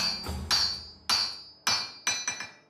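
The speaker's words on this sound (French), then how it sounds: "dans l'espoir que jamais ne cessent les bruits de la forge" A blacksmith at a forge in Bukhara strikes metal with a hammer, five or six sharp ringing blows at an uneven pace, each decaying with a metallic tone, close and clear with no talk.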